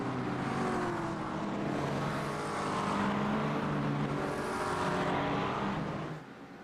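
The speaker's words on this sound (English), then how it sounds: "Here come the GT3 runners. Here comes the swarm." A swarm of GT3 race cars sweeping past at Zandvoort in iRacing, a loud continuous engine roar with rising and falling tones as the cars pass in a close group, fading near the end.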